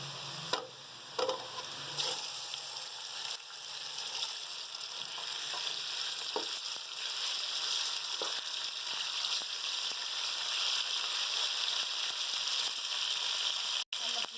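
Minced meat for matar keema sizzling and crackling in a hot pan, a steady quiet frying hiss with occasional stirring scrapes and clicks.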